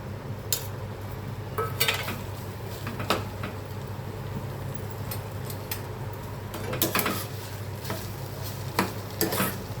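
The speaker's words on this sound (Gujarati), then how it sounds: "થોડા ઘીમાં સોતરી નાખવાના બટેટા." Boiled, mashed potatoes stirred in ghee in a pan: a soft, continuous scraping stir under a faint sizzle, punctuated by occasional sharper spoon clinks against the pan, close up with no voices.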